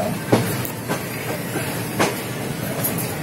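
ICF coach of the Falaknuma Express pulling out of Howrah platform 21, with a steady rolling rumble and a few sharp clanks and knocks from the couplings and wheels, heard from inside the coach with no talk.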